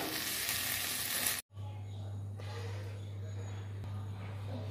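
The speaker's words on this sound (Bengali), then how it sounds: "কালো জিরে দিয়ে ভেজে নেব" Nigella seeds fry in oil with a dense, bright sizzle that cuts out abruptly, followed by a quieter crackle over a steady low hum.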